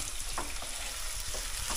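Five or six onions fry in a pan for biryani, a low steady sizzle with faint intermittent stirring scrapes, fairly quiet and close.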